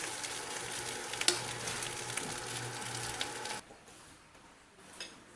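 Garlic fried rice (sinangag) sizzles steadily in a pan with broadband crackle and a few scraping stir clicks, close and fairly loud, then cuts to a much quieter, softer sizzle for the last couple of seconds; no talking.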